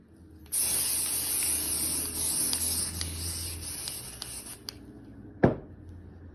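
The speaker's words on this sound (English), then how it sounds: "The spray adhesive makes it so much easier to cut double fabrics." A steady spray adhesive aerosol hiss sprays continuously for about five seconds onto fabric, then stops, followed by a sharp tap or clack.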